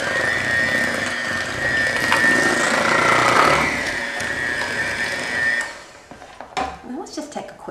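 An electric mixer whirs steadily through cream cheese with squeezed lemon for tarts, a loud continuous motor drone that cuts off near the end, leaving quieter kitchen clatter.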